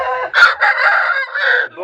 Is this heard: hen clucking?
yes